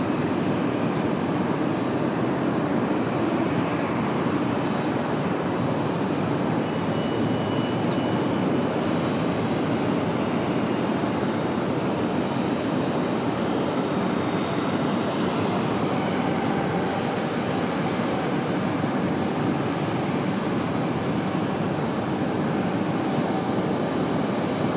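A Southwest airliner takes off from runway 23 left at Raleigh-Durham International, its engines producing a broad, continuous roar that stays loud and steady throughout.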